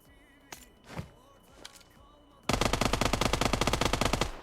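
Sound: automatic rifle firing in PUBG Mobile video game

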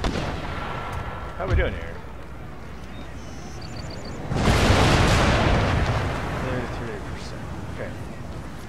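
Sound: cannon fire in video game Empire Total War

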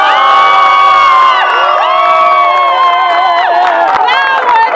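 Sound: crowd applauding a dog dressed as a peg-legged pirate

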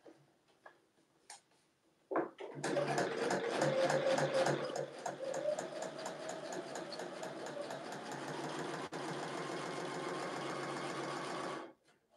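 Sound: domestic sewing machine stitching through two layers of fabric

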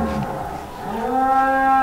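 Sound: cow mooing

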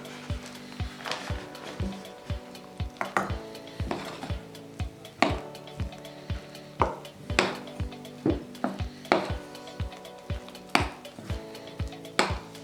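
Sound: stirring flour into potato dough in a bowl

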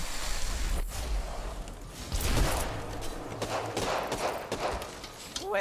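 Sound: gunfire in the video game Apex Legends

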